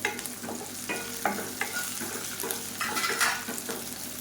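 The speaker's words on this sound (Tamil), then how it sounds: "இதையும் நல்லா வதக்கிக்கலாம்" Small onions sautéing in a pan for coriander-leaf thokku: close, constant sizzling broken by several sharp clinks and scrapes of a spoon stirring against the metal pan.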